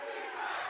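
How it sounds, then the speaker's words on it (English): A large esports arena crowd roars and cheers during a Valorant match, a dense, steady wall of voices with no talk over it. "Yeah, the crowd getting involved now."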